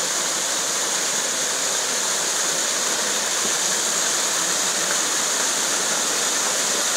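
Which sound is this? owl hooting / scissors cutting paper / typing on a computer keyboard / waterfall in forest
waterfall in forest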